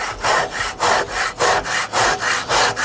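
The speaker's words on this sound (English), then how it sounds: "use the handsaw and try to use all the blade" A handsaw cuts through wood for a door frame, its long even strokes rasping in a steady back-and-forth rhythm, close and loud with no talking.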